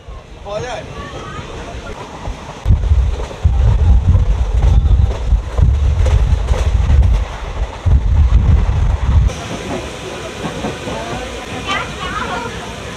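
Hazarduari Express passenger train running near Palashi station, a loud low rumble of wheels on track swelling mid-clip with steady hiss, under a voice talking throughout.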